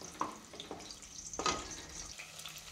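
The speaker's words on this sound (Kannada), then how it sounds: "ಎಣ್ಣೆ ಬಿಸಿ ಇದೆ. ನಾನು ಮೊದಲನೇದಾಗಿ ಈರುಳ್ಳಿನ ಹಾಕ್ಕೊಳ್ತಾ ಇದ್ದೀನಿ." Onions go into hot oil for a vegetable bath dish and fry with a soft, quiet sizzle, broken by a few sharp clinks and scrapes of stirring. No one speaks.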